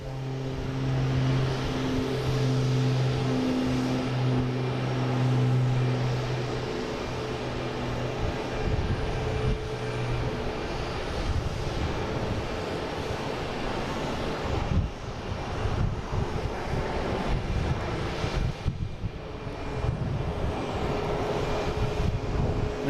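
A Cessna Citation Latitude business jet takes off at Boston Logan, its engine whine holding steady tones before swelling into a broad roaring rush that stays strong and sustained throughout.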